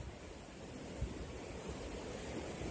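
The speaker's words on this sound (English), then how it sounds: "I'm just enjoying the wind." Wind blowing outdoors on a windy day: a steady broadband rush without pauses, moderately loud, with one brief low thump near the start and no talking.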